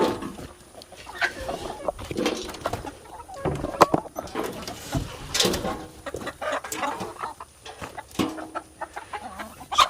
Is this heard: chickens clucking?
yes